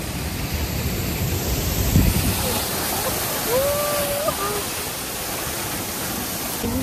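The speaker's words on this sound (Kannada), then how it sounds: "ಹಿಂದೆ ಎಲ್ಲ ಫಾಲ್ಸ್ ಇದೆ." Hogenakkal Falls sends up a steady, broadband roar of rushing water behind a boat on the river, loud and continuous throughout, with a brief bump and faint voices drifting over it.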